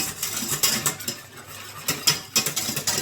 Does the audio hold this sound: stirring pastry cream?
yes